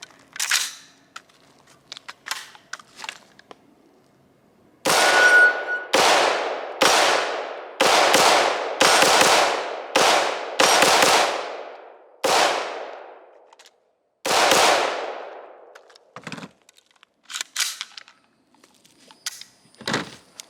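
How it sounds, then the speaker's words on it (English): An AR-15 rifle fires cheap steel-case ammunition in about ten loud, sharp shots at an uneven pace, each cracking report ringing out briefly. "Okay, so let's do some shooting."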